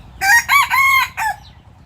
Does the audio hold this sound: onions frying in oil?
no